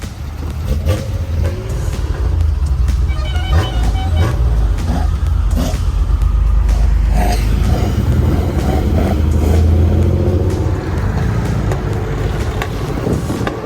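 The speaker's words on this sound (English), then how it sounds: "Ooh, listen to those pops." Loud engine rumble with a car's exhaust crackling and popping in quick irregular bursts, close by, without speech.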